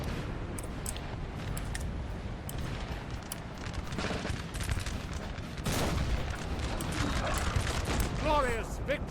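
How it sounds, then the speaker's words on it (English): Artillery bombardment and musket volleys from a Napoleon Total War 3 battle, a dense rumbling barrage of distant booms and crackling shots running throughout, with a voice talking over it. "the artillery is striking in there"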